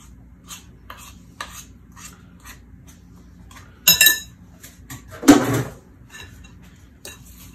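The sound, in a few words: stirring apple blondie batter with walnuts using small spoon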